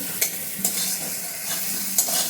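Eggs frying with spices in a pan make a steady, close sizzle, with a few brief scraping stir strokes at irregular intervals over the hiss.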